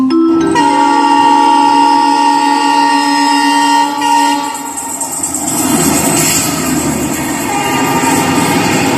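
A loud train horn blares for several seconds, then gives way to the rumble and clatter of a passing train close by at a station.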